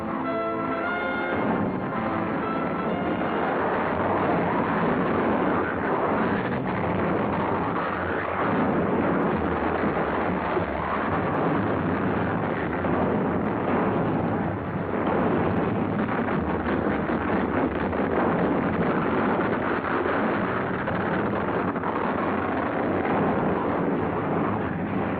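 Coast Guard icebreaker grinding slowly through pack ice, a steady loud rumbling roar with heavy low churning and crunching texture sustained throughout, no voices.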